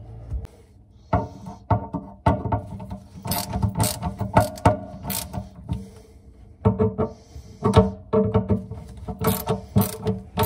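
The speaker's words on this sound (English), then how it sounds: "Let's tighten down the 3 screws that hold the sink flange together and tighten." A ratchet drives the screws of a kitchen sink flange, clicking close and steadily in fast repeated runs with short pauses between bursts.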